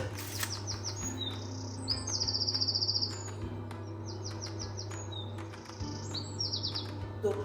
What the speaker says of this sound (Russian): Слышите, как у меня птичка поет.